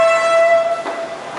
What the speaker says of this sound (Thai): บรรยากาศรถไฟในลิสบอนหน้าตาเป็นอย่างนี้ใช่ไหม